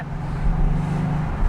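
Mercedes-AMG GT S engine in race mode, a steady, loud low rumble from close by, with a slight swell near the middle.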